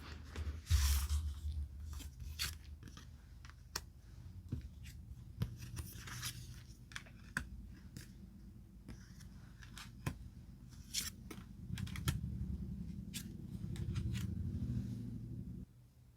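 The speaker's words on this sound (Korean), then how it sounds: "어떤 행동을 할지 카드 5 장을 선택해 볼게요." Tarot cards being shuffled and drawn to pick five, a run of soft close-up slaps, flicks and brushing card sounds with short crisp ticks, steady at low level throughout and without any talk.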